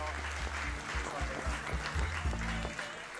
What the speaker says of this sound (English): how about a round of applause for Ōtāhuhu and Bears in the grand final